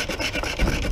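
Sanding paint-spray buildup off an electrical part makes a short, close abrasive rasping, a few quick rubbing strokes in under a second.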